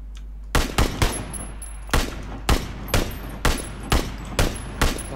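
Gunfire in the battle royale game PUBG: a series of about nine loud, sharp shots spaced irregularly, each with a short echoing tail, over a low steady hum.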